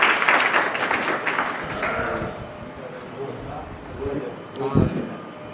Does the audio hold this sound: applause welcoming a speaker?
yes